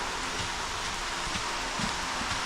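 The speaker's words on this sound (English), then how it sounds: "It finally stopped the deluge and it's just kind of raining now" Steady rain falls on a greenhouse after a severe storm, a dense, even hiss of drops on the surface that holds at a moderate level throughout, with no voices.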